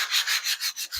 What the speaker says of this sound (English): with a sanding block, I can sand it down a little bit on the Melange side